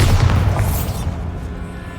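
A Bombarda blasting spell in Hogwarts Legacy detonates as a loud, deep boom right at the start, its low rumble gradually decaying over about two seconds with no talk.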